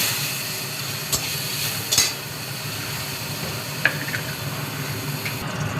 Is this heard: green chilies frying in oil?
yes